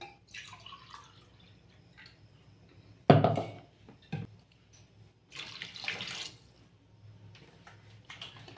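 Water is poured from a cup into a cooking pot while making fenugreek pulao, several short splashing pours with drips and a sharp clink between them, close and fairly quiet.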